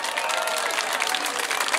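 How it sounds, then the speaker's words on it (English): Steady crowd applause at the finish of the Bideford 10k road race in 2024, a dense, even patter of clapping that holds for the whole moment with no speech over it. "keep that round of applause going"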